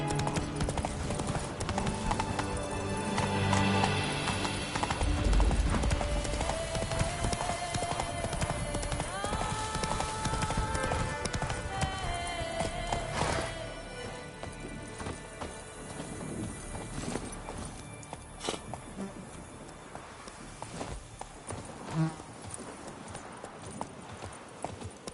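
Roach the horse's hooves clip-clop steadily in The Witcher 3: Wild Hunt Remastered, a continuous rhythmic trot partly under layered game music and ambience that thins out in the later half.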